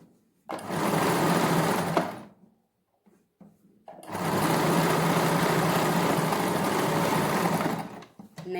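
A sewing machine stitches a seam on a lace sleeve in two sustained bursts of steady mechanical whirring, close and loud, with a quiet pause of faint handling noises between them.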